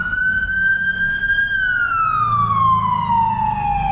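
A fire truck siren wails in Los Angeles with a steady high tone that slowly falls in pitch, loud and close, over low traffic rumble.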